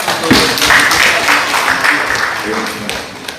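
Applause from a school audience at an event with a provincial governor, mixed clapping running under a busy hall with voices and noise throughout.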